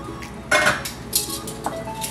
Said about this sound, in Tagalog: Okay, so haluin po natin.